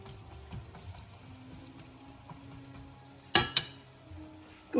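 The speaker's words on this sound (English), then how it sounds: "I'll go ahead and spread these out, sizzle them down a little bit." Quiet, steady sizzling of ingredients frying in a pan for Southern cornbread dressing in a home kitchen, with a couple of sharp clatters of a utensil against the pan near the end.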